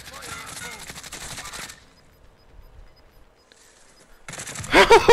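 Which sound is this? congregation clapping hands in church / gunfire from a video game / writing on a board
gunfire from a video game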